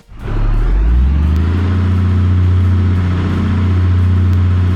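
A truck engine in the video game BeamNG starts up with a single normal exhaust and settles into a loud, deep, steady exhaust drone with a heavy low rumble.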